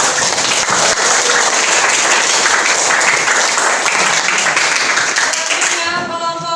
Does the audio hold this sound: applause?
yes